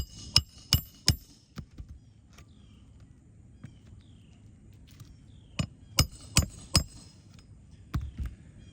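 A hammer drives nails into a roof shingle with sharp, loud strikes in quick groups of three or four, a quiet gap in between, then another rapid burst of blows.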